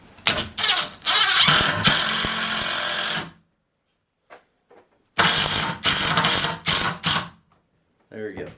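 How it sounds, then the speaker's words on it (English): A DeWalt drill driver drives 3-inch exterior screws into rough-cut lumber and pallet wood, with two long, loud, close bursts of whirring and grinding, each about two seconds, separated by a short quiet gap. "And DeWalt drill driver, 3-inch exterior screws."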